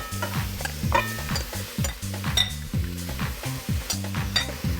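Seasoned pork searing in a hot pot with no oil, a busy sizzle broken by repeated scraping stirs of a utensil against the pot, close and continuous.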